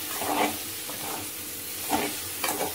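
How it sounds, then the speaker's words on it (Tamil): Small-cut cauliflower pieces sizzling in hot oil in a pan for sambar, stirred with a few scraping sweeps over a steady close frying hiss. "நல்லா எல்லா இடத்துலையும் ஒன்றோடு ஸ்ப்ரெட் ஆகிற மாதிரி நம்ம இதை பிரட்டி விட்டுலாம்"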